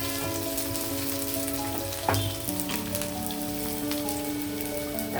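Carrot frying with onion and other vegetables in a pan, a loud, close, continuous sizzle with crackling pops and a brief stirring clatter near the middle, no voices.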